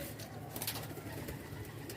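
Soft pigeon cooing at low pitch, a Sialkoti or Qasuri pigeon, murmuring steadily over faint background noise, fairly close and without any talking.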